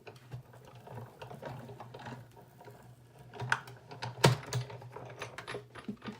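Paper runs through a hand-cranked embossing machine fitted with dedicated embossing plates, giving quiet, close mechanical clicking and grinding in irregular bursts, with a couple of sharper knocks near the end.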